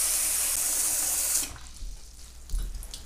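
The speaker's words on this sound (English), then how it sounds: "you want to fill up your sink with as much hot water as you can" Hot water runs loudly from a tap into a sink, a steady rushing hiss that cuts off about halfway through, leaving quiet with a couple of faint low bumps.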